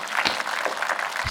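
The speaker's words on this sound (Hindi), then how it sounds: "एक बार दोनों हाथ उठाकर तालियों के साथ एक बार।" Audience clapping at a Hindi comic poetry gathering, a hasya kavi sammelan: a short, steady patter of many hands, moderately loud and with no voices.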